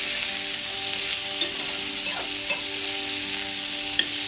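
Chopped ivy gourd sizzles steadily in hot oil, with a few soft stirring scrapes and clicks from the spoon breaking through the frying hiss.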